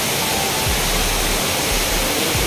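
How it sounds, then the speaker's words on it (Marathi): Savdav waterfall in Konkan, a steady broadband rush of falling water filling the scene with constant close roar, with occasional low rumbles beneath and no voices. "तुम्ही सावडाव धबधबा बघू शकता."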